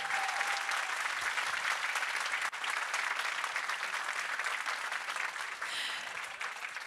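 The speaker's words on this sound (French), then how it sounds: "Vos applaudissements pour nos finalistes." A live audience applauds the finalists at an evening awards ceremony, with steady, dense clapping that fills the room loudly and without a break.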